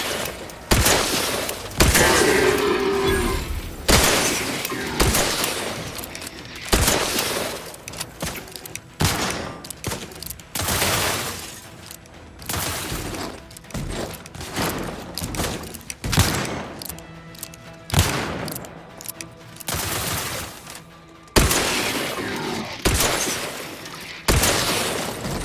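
Combat gunfire in the video game Outer Worlds 2: dense, loud bursts of shots and impacts fill the whole stretch, with booms, thuds and shattering mixed into near-constant firing and no talk.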